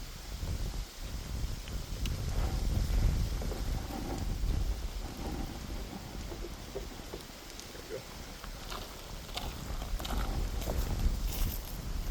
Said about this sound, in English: just with it being windy out here today